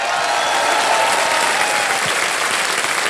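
Steady, dense applause from a large studio audience on the game show Kaun Banega Crorepati, loud and continuous throughout without a break.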